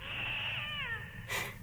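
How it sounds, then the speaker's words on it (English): A cat screeches in an empty street at night, a long wavering yowl that bends downward before a second sharper cry breaks out at the end, loud and fairly close. "soon no doubt we shall hear their abominable screeching"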